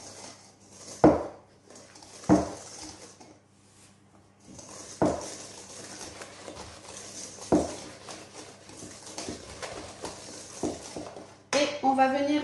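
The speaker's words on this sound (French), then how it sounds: "On va venir mélanger tout ça. Œufs, farine, sucre et sucre vanillé." Eggs, flour, sugar and vanilla sugar being mixed in a bowl give off intermittent clanks and scrapes of utensil against the dish, separated by quieter stirring, with a final burst of brisk clattering.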